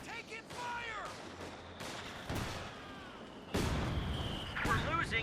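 Infantry gunfire crackles through a Company of Heroes 2 match as grenadiers engage riflemen, with scattered rifle shots and bursts over a continuous battle din, voices mixed in.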